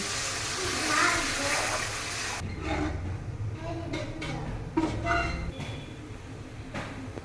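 A little water is poured into cooked spice paste in a pan, a rushing splash and hiss that fades into softer bubbling and sputtering, heard close with faint background sounds.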